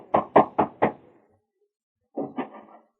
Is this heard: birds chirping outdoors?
no